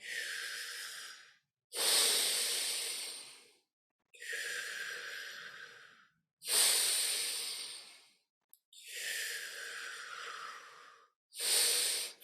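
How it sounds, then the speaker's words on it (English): Forceful breathing exercise with lips puckered, air drawn in through the mouth and pushed out through the nose from the navel, heard as six close, loud rushing breaths with short pauses between them. "inhale through the mouth, exhale through the nose, using the navel point to push all the air out"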